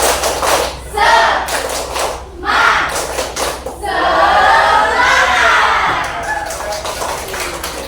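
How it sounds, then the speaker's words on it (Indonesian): Classroom audience doing a rhythmic spirit clap, bursts of clapping and shouted chanting in patterned sections, loud and close, ending in a long cheering swell. "Nah, tepuk semangat ayo."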